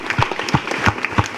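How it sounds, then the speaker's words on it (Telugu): Audience at a school event claps in a loose burst of applause, with several sharper clap peaks standing out over a steady patter of hands at moderate volume. "ఒకసారి చప్పట్లతో ఆనందిద్దాం."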